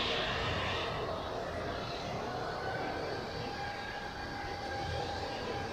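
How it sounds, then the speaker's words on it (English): A Eurowings Airbus A320 takes off at Zurich Airport, giving a sustained rumbling jet roar with a rising whine that stays fairly distant and steady. "just on time for this Eurowings A320. Going out to Palma de Mallorca."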